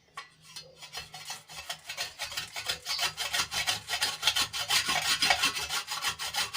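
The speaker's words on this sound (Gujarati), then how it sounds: "અહીંયા સાબુને આપણે ખમણી લેવાનો છે" A bar of soap is rubbed against a grater in repeated rasping strokes, at a quick, steady rhythm. The scraping starts soft and grows louder, close up, with no talking.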